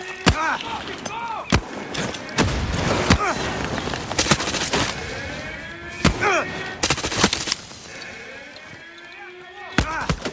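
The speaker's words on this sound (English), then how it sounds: "Somebody was right next to me shooting at me." Gunfire in the video game Far Cry 6: repeated sharp shots and bursts, close and loud, scattered through the scene over a busy backdrop of game effects and mixed sounds.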